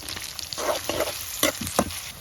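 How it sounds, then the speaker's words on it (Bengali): Prawns sizzle and spit in hot oil, with a few sharp scraping stirs of a utensil against the pan. "তেলটা গরম হয়ে গেছে, এখন চিংড়ি মাছটি দিয়ে দিমু"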